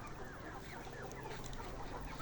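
Thousands of layer hens clucking together at a large poultry farm, 116-day-old pullets among them, form a dense, continuous wash of overlapping calls with no clear pauses and no voices.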